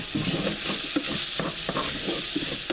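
Sausage frying in a pan while being stirred continuously, a dense crackling sizzle broken by regular scraping strokes of the utensil, close and with no voices.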